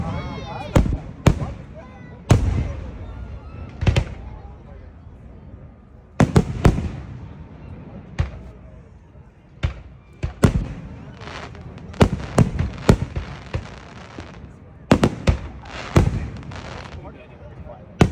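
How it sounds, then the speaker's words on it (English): A July 4th fireworks show bursts in a long series of sharp, loud booms and crackles, irregularly spaced with some rapid clusters, echoing in open air as people talk faintly between blasts. "Fireworks show."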